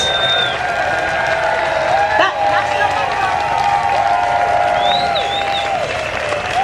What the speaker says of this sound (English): I want to hear applause, screaming, shouting.